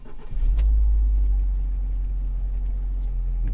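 A car engine cranks and catches, then settles into a steady, loud low rumble close by, with no talk over it.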